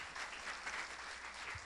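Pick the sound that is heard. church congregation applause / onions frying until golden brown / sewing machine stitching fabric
church congregation applause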